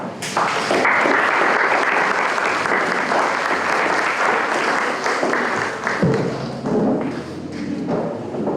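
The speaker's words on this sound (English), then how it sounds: "please give Mrs. McInnes another round of applause" An audience gives a sustained round of applause for a speaker at a Technology Day event, dense and loud clapping for about six seconds before it thins toward scattered claps.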